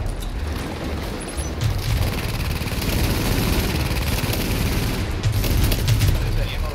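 Gunfire rattles almost continuously in The Division, with rapid automatic bursts over a low engine drone, while players talk over it.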